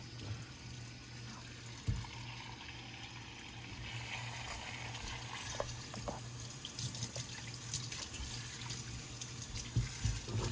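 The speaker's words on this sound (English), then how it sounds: "Low pressure warm water." Low-pressure warm water runs over a Dodge Challenger as it is rinsed, a steady gentle splashing and trickling like a tap, with a few louder knocks and drips close by.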